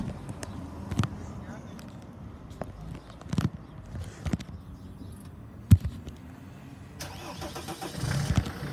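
A diesel engine cranks and turns over amid clunks and scattered knocks, followed by a low idle rumble with faint voices nearby.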